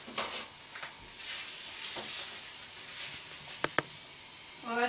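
Oats and grated coconut dry-toasting in a pan give off a faint, steady hiss with soft scraping and a few light clicks as they are stirred.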